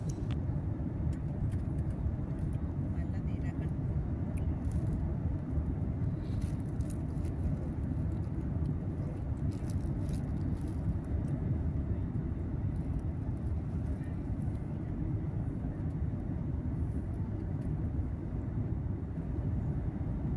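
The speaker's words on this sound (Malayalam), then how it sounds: "വിമാനം ലാൻഡ് ചെയ്യാൻ തയ്യാറെടുക്കുകയാണ്." An airliner cabin drones with a steady low engine roar during the descent toward Leh airport in Ladakh, continuous and unchanging throughout.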